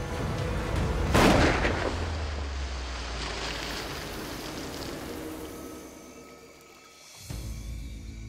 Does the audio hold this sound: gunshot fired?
yes